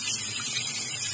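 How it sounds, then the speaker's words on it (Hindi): Rice being washed for dosa batter, with water running and splashing steadily and fairly close for about a second, with no talking. "अब इस चावल को मैं धो रही हूँ साफ से"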